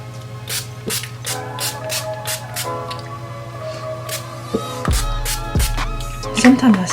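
NYX Dewy Finish setting spray is pumped in several short, hissing bursts during a makeup routine, close and crisp over a steady background hum.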